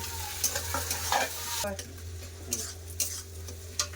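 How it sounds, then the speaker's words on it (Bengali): Chopped tomatoes and browned onion fry in a pan with a steady close sizzle while a spatula stirs and scrapes in quick repeated strokes, with a low hum underneath. "টমেটো ভালো করে ভেজে নিয়েছি"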